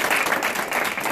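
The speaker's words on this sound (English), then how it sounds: "Can y'all give him another round of applause?" An audience breaks into dense, sustained applause, close and fairly loud, with a few voices mixed in.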